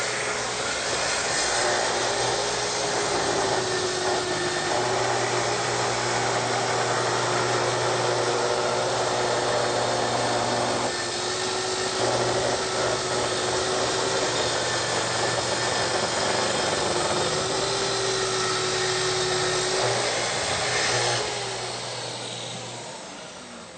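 A plunge saw with a combination blade cuts through wood, a loud steady whine that runs continuously for the whole stretch and eases off near the end.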